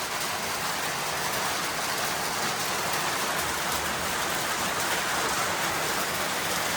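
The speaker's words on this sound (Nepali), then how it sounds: "चम्रुङमा त पानी परेको अवस्था" Steady, close rain falls during a trek stop at Chhomrong on the Annapurna Base Camp route, a dense unbroken hiss with a faint low rumble beneath, no voices.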